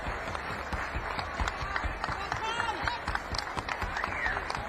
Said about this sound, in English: And the applause.